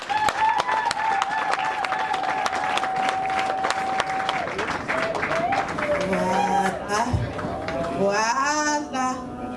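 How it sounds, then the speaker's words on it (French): An audience claps steadily at a cake-cutting ceremony during a pharmacists' order anniversary celebration in Congo, dense applause with a voice talking over it and a short whistle-like tone. "Est-ce que nous pouvons acclamer?"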